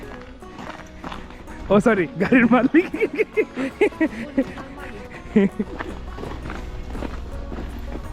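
A horse in snowy Finland moves with soft hoof clip-clops, partly buried under close, lively talking.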